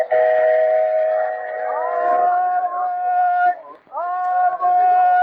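A train whistle sounds as a passenger train departs westbound: a loud, sustained multi-tone blast that dips briefly near the end, then resumes with a second blast.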